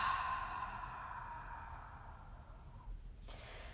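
A long, slow breath pushed out through the mouth during a core-bracing ab exercise, a soft breathy rush that fades over about three seconds, followed by a brief faint puff, near and quiet.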